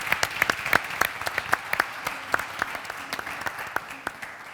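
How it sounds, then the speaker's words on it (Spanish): Audience applause at the close of a water management and conservation conference session, a brisk spattering of individual claps at moderate level from a room-sized crowd, heard alone without talk. "Así que... Aplauso, ¿no?"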